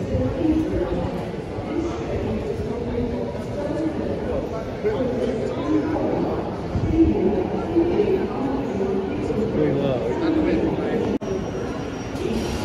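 A southbound Thameslink train for London Blackfriars, the Brighton service, pulls into the station with a steady rumbling roar that builds and lingers, while people talk over the platform noise.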